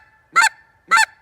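Goose call blown from the front of the call, giving two short, loud honking clucks evenly spaced about half a second apart, alone with no talk.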